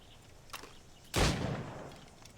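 A single sharp gunshot cracks out at targets in the Assassin's Creed Rogue video game, standing alone against a quiet background and fading quickly.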